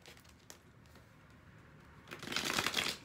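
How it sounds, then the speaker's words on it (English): Tarot cards shuffled by hand, a faint riffle early on, then a loud, dense burst of papery flicking and slapping near the end, heard alone with no talk. "I'm going to shuffle the card 3 more times."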